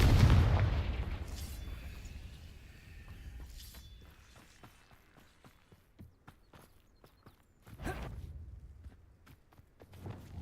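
A Confringo fire-blast spell explodes in Hogwarts Legacy with a heavy, booming burst that rumbles away over a few seconds. Scattered clicks and steps follow, then another blast later on.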